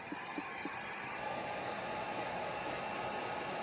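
Heat gun blowing hot air onto a vinyl-decorated tumbler, a quiet, steady whooshing hiss that continues without a break and has no voices over it.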